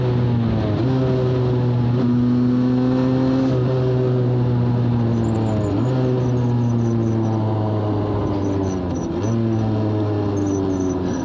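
A learner rider's motorcycle drones loudly and close. Its engine pitch holds steady, then dips sharply at each gear shift, about three times, with no talk.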